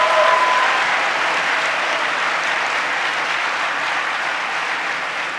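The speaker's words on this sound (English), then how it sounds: "Let's give them a round of applause." An audience applauds a Big Ten championship team at a Nebraska debate event, a dense, even wash of clapping that stays loud and steady and fades only slightly, with a brief tonal blip at the start.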